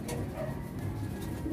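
Fancy pigeons coo softly in a short, low murmuring burst nearby, with no voices over it.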